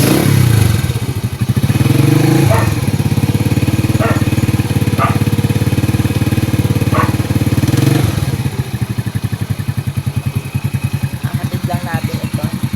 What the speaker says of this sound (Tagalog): Papainitin lang natin ang motor.